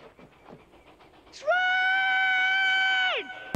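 Train horn from the film Stand By Me: after quiet rustling, a loud sustained tonal blast holds for nearly two seconds, then slides down in pitch and cuts off.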